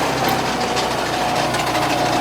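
Woodworking machine running steadily as a piece of wood is fed through it to a stop, a continuous mechanical drone with a high whine, loud and close, no voices.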